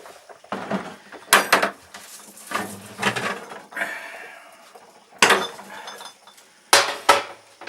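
Original one-pint Boots home-brew bottles knock and clink together in a handful of loud, sharp glassy bursts separated by quieter handling rustles, with no speech.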